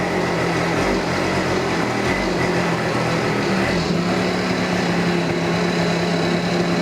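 A small scooter engine, freshly rebuilt and being run in, idles steadily nearby with a continuous low, buzzing rumble, no voices over it.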